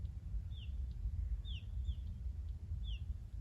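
Faint, high bird calls repeat three or four times in short sweeping chirps in a quiet natural place, set over a steady low rumble of wind or distant background noise.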